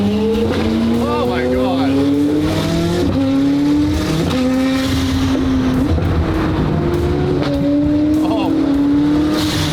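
A straight-piped, tuned McLaren Senna hypercar revs hard repeatedly, its loud, raw exhaust climbing and falling in steady pulls close by, with excited voices exclaiming over it.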